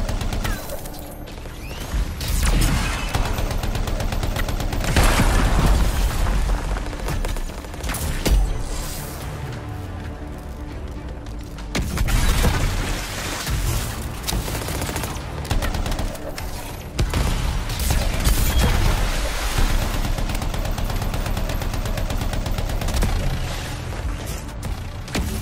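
Sustained weapon fire aimed at crystals in Anthem, dense volleys of shots and impacts that rise and fall in loud waves over about twenty-five seconds, with heavy booms and clatter between bursts.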